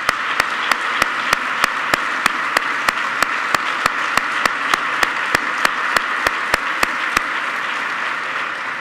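Audience applause at a university Erasmus programme anniversary ceremony, a loud steady wash of clapping with a few sharp, evenly spaced claps standing out on top.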